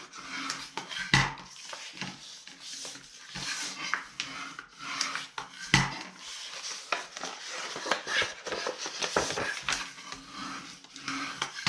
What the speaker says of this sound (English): now we can take this and we can fold and burnish all of those scores.